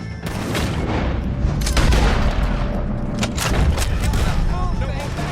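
Sustained gunfire rattles through a Wild West shootout against O'Driscoll gang members, with dense bursts and sharp cracks layered over a steady roar of battle noise, loud and continuous throughout with voices mixed in.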